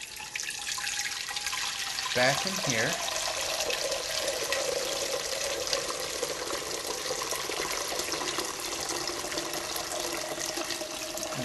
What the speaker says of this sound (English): I'm just going to pour the tea